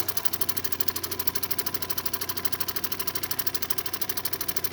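Lapidary grinding wheels spin steadily while a Montana agate cabochon is cut, giving a continuous close motor whir with a fast, even pulsing rhythm and no talking.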